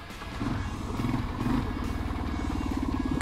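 A 1987 Kawasaki KLR 650 motorcycle engine with a fuel-starvation fault, in first gear, cranking and sputtering as it tries to fire, a continuous rough low rumble with uneven surges and no clean catch.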